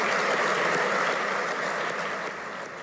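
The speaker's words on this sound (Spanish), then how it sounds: "quiero de vuelta que se dé un enorme aplauso de todos ustedes" A large audience applauds after a speech by Argentine president Mauricio Macri to the farming sector, a loud continuous roar of clapping that tapers slightly at the end.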